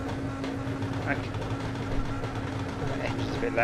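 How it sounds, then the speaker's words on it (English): A GT3 race car engine in iRacing at Daytona Road course, a steady droning hum under a muffled voice. "The engine's a bit loud."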